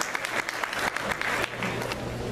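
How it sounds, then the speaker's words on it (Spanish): Applause from a crowd, steady clapping that fills the space at moderate volume, with no talking. "Un aplauso aquí a José Guadalupe."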